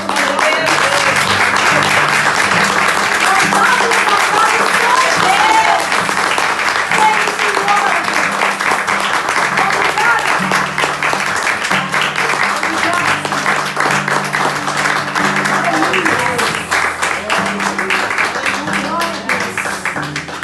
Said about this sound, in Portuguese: Então aplauda esse Deus maravilhoso